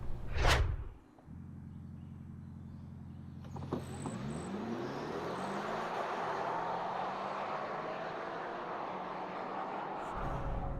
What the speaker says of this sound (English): I downshift and it sounds like a regular gasoline car